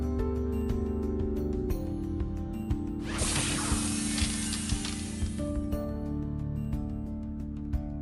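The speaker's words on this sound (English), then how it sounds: "the maniac returned with her hairspray ray of doom to freeze the power ponies in place." Hairspray ray of doom in a My Little Pony Power Ponies story app firing as a sustained bright spray hiss for about two and a half seconds over busy game music with mechanical clicks.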